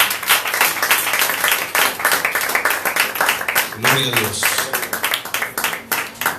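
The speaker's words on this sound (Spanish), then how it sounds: "Dale palmas de alabanza al que vive." A church congregation at a water baptism service claps steadily in praise, a thick wash of handclaps, while a preacher's voice speaks loudly over it.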